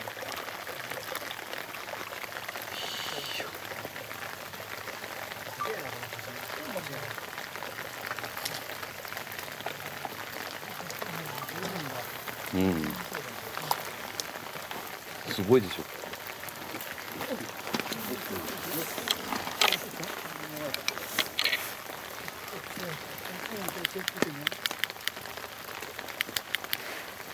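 Rain patters steadily on surfaces in a dark forest at night, a constant soft hiss with scattered drips and splashes, while people talk quietly and move about nearby.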